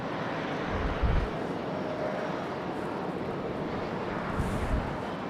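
An airliner arriving at Raleigh Durham International Airport roars as a broad, steady rush of engine noise, with a few low thumps of wind against the microphone.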